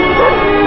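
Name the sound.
dog barking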